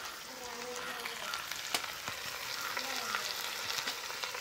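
Masala with onion sautéing in a pan for samosa filling at a roadside thatched-hut stall, a steady sizzle with scraping stir strokes and a few sharp ladle clinks, close and moderately loud.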